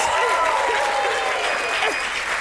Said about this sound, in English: The audience clap for themselves